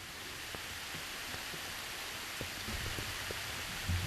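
Sudden summer rain on a small, unadorned mountainside hermitage, a steady soft hiss of drops filling the hall, with scattered louder taps and occasional low thumps, continuous and fairly faint throughout.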